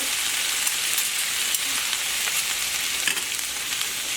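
Peppers frying in a pan for a cabbage medley, a steady dense sizzle with occasional clinks and scrapes of stirring, close and continuous throughout.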